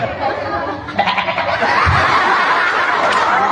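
A voice imitates a goat's bleat, a wavering, nasal call held for a few seconds, loud and close.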